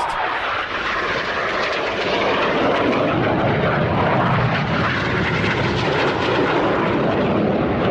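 Aerobatic display jets rolling overhead make a loud, sustained roar that swells slightly and fills the air for several seconds.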